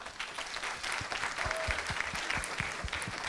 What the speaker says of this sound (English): Please a round of applause for our lovely SCP